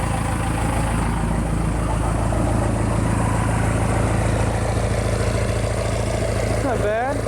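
A Cummins 4BT diesel engine runs with no muffler, a loud, steady, heavy low rumble that idles evenly throughout, with a brief rising rev near the end.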